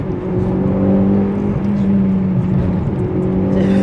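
Mitsubishi Lancer Evo V engine droning steadily while driving, loud and continuous with a sustained low tone that shifts slightly in pitch as revs change, no voices over it.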